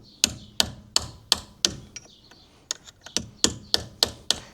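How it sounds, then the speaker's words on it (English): A hammer striking a wheel hub locking nut on a Toyota Hilux: a series of sharp metallic blows at a steady rhythm, with a short pause and lighter taps midway, close and alone. "just kindly hit that nut so it undoes"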